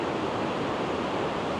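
Horseshoe Falls, a weir built to supply water to the Ellesmere Canal, rushes in a steady, loud, broadband roar that stays even and continuous throughout, with no voices.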